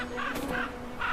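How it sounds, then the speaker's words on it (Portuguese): Crows guard a carcass in icy terrain, several harsh caws bursting out in short bursts over a steady background hum, fairly close and loud. "Os corvos defendem o seu alimento."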